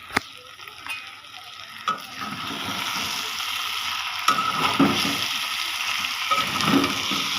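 Bitter gourd bhaji fries in a pan with a steady, close sizzle, broken by a few sharp clicks and scrapes from stirring.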